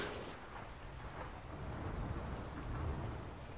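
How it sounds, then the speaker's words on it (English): Heavy rain and thunder on Ark Survival Lost Island, a dense steady hiss of pouring rain with a low rumble of thunder building underneath and staying constant throughout. "It's raining in on the Lost Island. Heavy showers."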